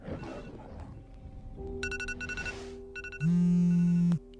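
Alarm clock ringing, first in short repeated electronic bursts and then in a loud sustained tone after a brief stretch of background noise.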